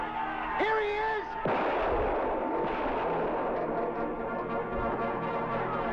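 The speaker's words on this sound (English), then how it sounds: "He shot at me." A gunshot in a Western film scene set in Deadwood rings out as a single sharp, loud crack, followed by a lingering rumble under continuous soundtrack noise and brief voices.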